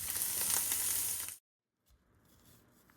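Pieces of andouille sausage sizzle and brown in a pan, a bright crackling hiss for over a second that stops abruptly, followed by a much fainter, quieter sizzle.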